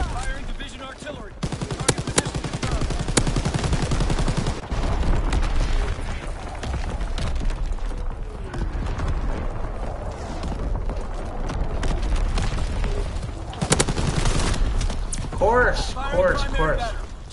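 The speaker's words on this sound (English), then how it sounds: "Firing division artillery." Division artillery fires in a war video game, heavy booms and gunfire crackling repeatedly through a dense, loud battle mix with a voice talking over it.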